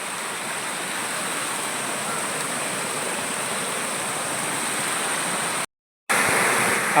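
A small waterfall tumbles over granite rocks beside the Aayiravallikkavu Mahadevar temple, making a steady, loud rushing splash that continues unbroken apart from a brief dropout near the end.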